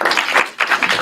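Audience applause at a tech demo night, a dense patter of clapping that swells, dips briefly near the middle, then picks up again, loud and close throughout.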